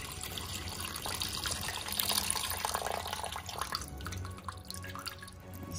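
Pepperoncini juice poured from a jar into an Instant Pot holding beef broth for a Mississippi pot roast, a steady trickling, splashing pour with drips, close and fairly loud, lasting several seconds with no talk.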